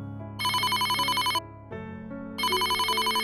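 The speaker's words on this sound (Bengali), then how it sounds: "ফোনটা নয়নাই ধরল" A telephone rings in two loud bursts of bright electronic trilling with a short gap between them, set against a quiet background hum and with no talk.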